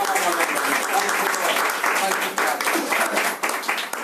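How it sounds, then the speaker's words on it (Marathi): A church congregation applauding together in praise during a worship service, a dense, sustained wash of clapping from many hands that fills the room, with a voice speaking over it. "देवाच्या गौरवासाठी आपण टाळ्या वाजवूया."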